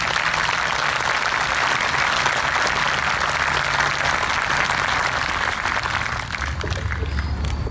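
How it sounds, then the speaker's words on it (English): An outdoor memorial ceremony audience claps steadily, a dense even patter of many hands that holds for several seconds before easing slightly toward the end, with no talking over it. "Your applause, please."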